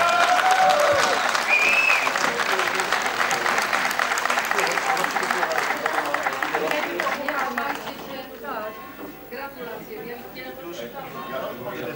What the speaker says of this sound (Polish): brawa, brawa, brawa.